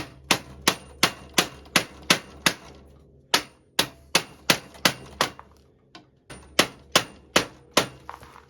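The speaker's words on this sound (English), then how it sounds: "Flathead. We just got to keep whacking her, either with a mallet or something." A flathead screwdriver driven by a mallet hammers a slider out of a 2001 Yamaha Venture/SXR 600 snowmobile's rear suspension, with sharp, close metallic whacks in steady bursts of about six strikes, separated by short pauses.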